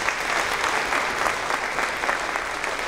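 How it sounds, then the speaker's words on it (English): Steady applause from a crowd at a fourth grade promotion ceremony, a dense even patter of clapping that holds at the same loud level throughout. "another round of applause for our student leaders on Tiger Team"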